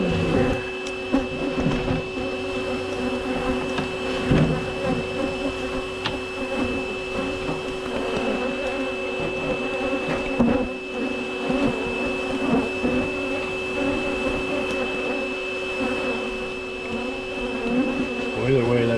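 Honeybees buzz continuously during a hive removal, a dense droning hum with steady pitched tones, close by and persistent, with occasional handling knocks and faint talk in the background.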